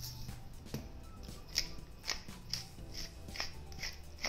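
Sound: whisking eggs with a wire whisk

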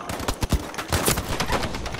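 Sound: gunfire in the video game Battlefield V

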